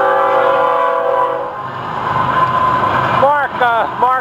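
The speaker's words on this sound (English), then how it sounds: "Take a look at this train. Three engines on it." A loud FEC freight train with three locomotives rumbles close by, a long horn blast at the start, then a steady roar with a few shrill whistle-like chirps near the end.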